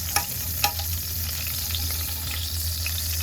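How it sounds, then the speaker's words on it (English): Garlic butter being stirred with a butter knife in a hot pan for shrimp, a steady hissing sizzle with two sharp early clinks and faint scrapes, no talk. "Yes, I'm using a butter knife mixing it up."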